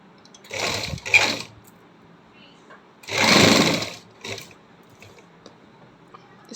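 A sewing machine stitches fabric for a halter neck in two short bursts, the second longer and louder, with quieter handling sounds between them.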